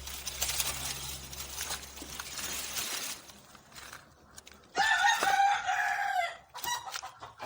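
Chickens on a poultry farm: a rooster crows loudly and clearly in the latter half, with scattered clucking and farmyard noise before it.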